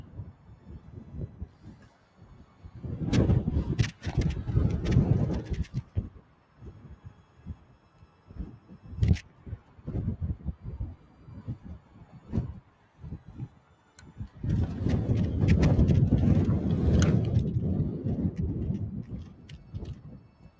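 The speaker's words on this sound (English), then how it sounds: "the wind is like so strong up here" Strong wind blasts across a hilltop and buffets the microphone in heavy, rumbling gusts, two long surges and scattered thumps between quieter lulls.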